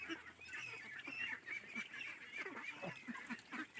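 A flock of two-and-a-half-month-old Khaki Campbell ducks eating a morning mix of bran and rice gives a soft, continuous chatter of nasal quacks and honks, faint and somewhat distant, with no one talking.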